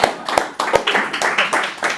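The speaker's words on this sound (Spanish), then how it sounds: "un aplauso" An audience claps in a short burst of rhythmic hand claps, fairly close and loud, with a few sharper individual claps standing out.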